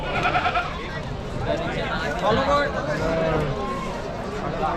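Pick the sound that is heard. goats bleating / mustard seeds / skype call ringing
goats bleating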